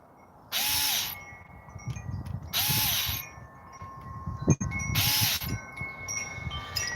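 Power drill driving screws into a 3D-printed transmission part, the screws failing to bite: three loud whirring bursts of about a second each with pauses between, a sharp click near the end, no talking.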